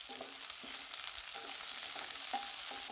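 Steady, hissing sizzle of onions and curry leaves frying in a pan, fairly quiet and continuous, with faint occasional tonal hums underneath.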